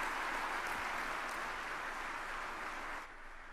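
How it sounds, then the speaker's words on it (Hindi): A large audience at the inauguration of the Pragati Maidan Integrated Transit Corridor applauds Prime Minister Modi with dense, steady clapping that holds evenly loud before easing slightly at the end. "जोरदार तालियों से स्वागत माननीय प्रधानमंत्री जी का।"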